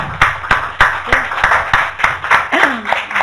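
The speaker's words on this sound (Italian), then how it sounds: "Simonetta Giordani, a cui vorrei dedicare un grandissimo applauso." Applause at an Italian conference on sustainability, women and STEM, with a few loud, close, regularly spaced claps over a background of wider audience clapping, while voices murmur briefly underneath.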